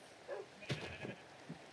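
Pink sheep in Minecraft bleating, a short synthesized baa that rises briefly and then trails off, with a fainter second bleat after it, both quiet and alone.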